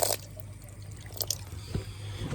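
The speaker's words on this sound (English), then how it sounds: "So realistically, I'm just going to tip that water off" Water tipped out of a fish food container with a compromised seal, a brief faint dribble and a few drips over low background hum, quiet and close.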